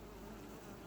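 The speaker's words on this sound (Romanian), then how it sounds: "O să trebuiască să eliberez albinele astea de aici, albinele însoțitoare." Honey bees buzz steadily around an open hive while the queen is being introduced, a dense close insect drone with no pauses and no voices.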